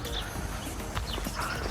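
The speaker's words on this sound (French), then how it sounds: "Il y a des chevaux, il y a des ânes." Horses and donkeys at a farm, with close, rhythmic hoof clip-clops on hard ground repeating through the short stretch, plus faint animal sounds in the background.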